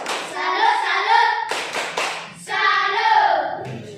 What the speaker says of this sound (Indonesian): Tepuk salut untuk kelompok Elang.